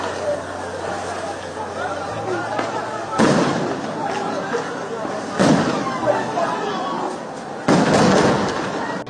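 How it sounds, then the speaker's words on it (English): Gunshots ring out during street unrest in Uganda, a few sharp, loud bangs spaced seconds apart over a background of distant crowd noise and chatter. "Yeah, so I hope you can hear the gunshots."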